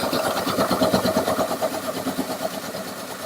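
A motorized ice shaver grinds ice into a cup with a loud, steady, pulsing mechanical whir up close, and no talking.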